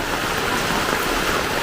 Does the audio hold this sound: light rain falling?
yes